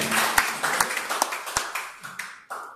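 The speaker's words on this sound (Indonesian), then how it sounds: "tepuk tangan dulu bagi Yesus" A congregation claps during a church service, with sharp individual claps of uneven rhythm that thin out toward the end and a brief murmur of voices.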